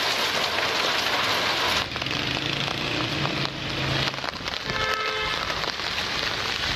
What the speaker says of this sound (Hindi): जुड़वा शहरों में बादल जमकर बरसे